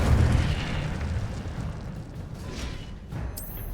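A fiery spell blast from the Hogwarts Legacy video game: a dense, rumbling burst that swells loud at the start, then settles into a sustained crackling roar that fades slightly before a brief bright flare near the end.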